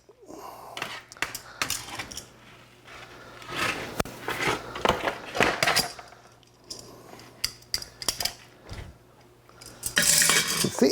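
Metal utensils clatter and scrape against a pot as BBQ ribs are flipped in an Instant Pot, with a run of clinks, knocks and scraping bursts at close range, loudest near the end.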